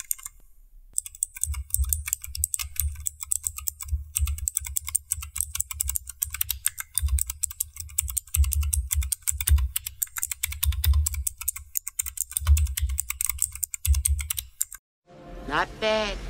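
Typing on a modded Cosmic Byte CB-GK-16 Firefly keyboard with PBT keycaps, dense, fast keystrokes clacking close for about fifteen seconds, with a short pause near the start, then a voice at the end.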